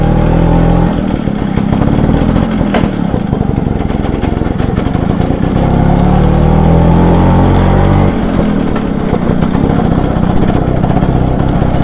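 A Vespa LML NV scooter with a disc brake runs while being ridden, its engine putting out a loud, continuous buzzing drone with a rattly clatter. The sound holds steady throughout, and no one talks.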